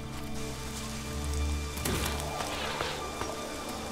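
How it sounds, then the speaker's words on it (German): Rain falling in the video game ELEX, a steady broadband patter on surfaces with scattered droplet ticks, moderately loud over a low sustained game tone and no talk. "Plötzlich Regengeräusche,"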